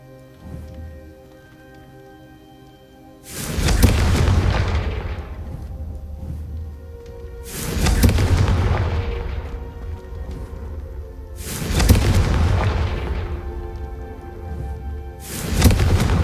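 Four heavy fiery blasts from the Confringo fire spell in Hogwarts Legacy, each a sudden booming burst that rumbles and fades over several seconds, spaced roughly four seconds apart over a quiet background.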